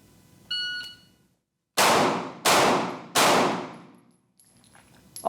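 Three loud, sharp gunshots at a shooting range, fired in steady succession about 0.7 seconds apart with long decaying tails, preceded by a brief metallic ring and followed by faint clattering.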